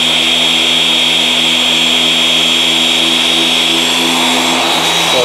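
A car paint polishing machine runs at speed six during scratch and swirl removal, producing a loud, steady, close whine with a high tonal hum that holds evenly throughout, easing slightly at the very end.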